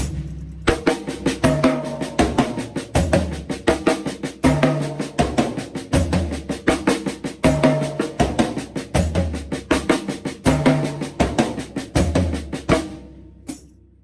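A full drum kit plays a steady groove with regular kick and cymbal hits, accents shifting around the toms, loud and close with no talking.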